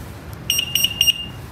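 Alarm on a motor scooter, set off by touch or the horn button, chirps in a quick series of high electronic beeps, two close pairs and then a trailing tone, loud and alone.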